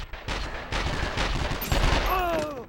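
Rapid gunfire crackles from the video game 24: The Game, a loud, dense burst of shots that runs almost without pause and ends in a few ringing tones, with a voice talking over it.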